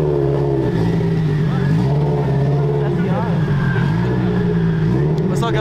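Muscle cars rev loudly as they leave a car show, a deep, continuous engine roar with rising and falling pitch close by, while people talk over it.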